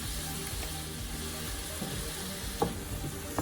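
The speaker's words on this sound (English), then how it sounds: "after sauteing this onion and garlic" Onion and garlic sautéing in amaranth oil with a pinch of all-purpose seasoning give a steady, soft sizzle close by, with a few light stirring clicks and scrapes near the end, no voices.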